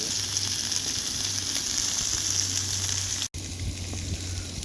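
Pork sausages fry in a cast iron pan, a steady close sizzle and crackle with a low hum underneath, briefly cut off before the sizzling resumes.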